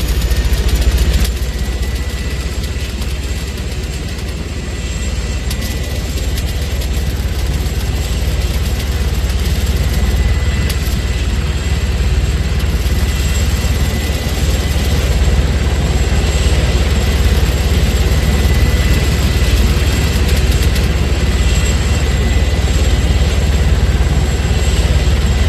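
Arma 3 helicopter engine, a loud, steady turbine whine and heavy rotor drone that holds constant throughout, close and uninterrupted.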